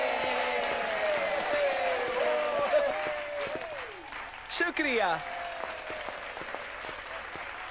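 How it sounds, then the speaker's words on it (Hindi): Audience applauding a new pop performer on stage, steady crowd clapping throughout under music, with a brief spoken word partway through. "इनके लिए तालियां।"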